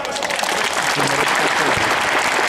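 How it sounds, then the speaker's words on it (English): Audience applause for a coach-honored speaker at an event, a dense steady wash of clapping throughout with a voice briefly speaking over it. "a nice round of applause"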